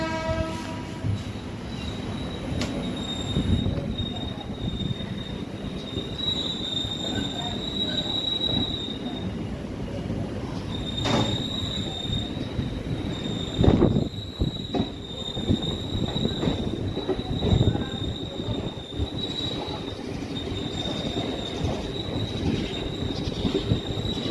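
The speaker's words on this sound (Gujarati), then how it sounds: "ટ્રેન ઉપડી ગઈ." A train departing from Bhavnagar rolls along steadily, wheels clattering and rumbling on the rails with high metallic squeals ringing over the continuous low roar.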